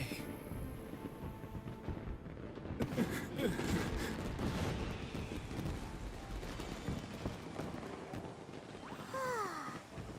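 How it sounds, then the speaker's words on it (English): Fireworks burst in a Genshin Impact cutscene, a dense rumbling barrage of booms and crackles that rolls on steadily at a distance, with a short voice at the end. "So, Yoimiya, these fireworks, what do they mean to you?"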